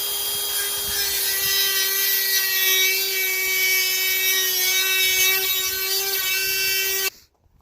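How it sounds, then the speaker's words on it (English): A cutoff tool slices through a metal nub on a Coleman minibike throttle stop arm. The steady, high-pitched grinding whine carries on for about seven seconds and then stops abruptly. "I want to cut it off right here and see what we got first"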